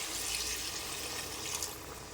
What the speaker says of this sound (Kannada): ಇಷ್ಟಾದಮೇಲೆ ಇದಕ್ಕೆ ನೀರು ಹಾಕಂತ ಇದ್ದೀನಿ